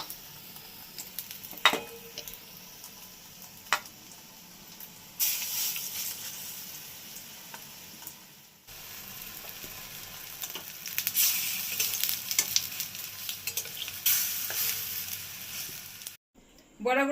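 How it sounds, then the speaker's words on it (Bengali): Pointed gourd kofta fritters fry in hot oil in a kadai with a steady, fairly close sizzle that swells louder in stretches, punctuated by occasional stirring clinks, with no talking. "বাকিটা আমি একই পদ্ধতিতে ভেজে নিচ্ছি।"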